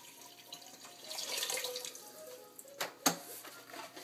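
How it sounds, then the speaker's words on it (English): Distilled water poured from a plastic jug into a soup pot, a soft running splash that swells for a couple of seconds, with a couple of sharper clunks near the end, fairly quiet and close. "So I'm going to pour the water right in here"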